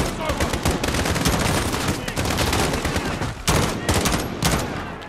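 Rapid, dense gunfire from the Modern Warfare video game fills the whole stretch, with overlapping automatic bursts and single shots near and loud, and a voice speaking over the battle.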